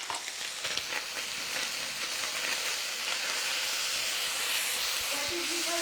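Steady, continuous sizzling of garlic and cornstarch-coated chicken stir frying in a hot pan, with crackling hiss throughout and faint stirring scrapes.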